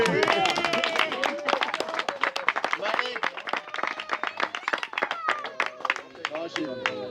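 Lively, close applause for live musicians at an evening beer tasting, with sharp individual claps, mixed with cheering and excited voices from the crowd.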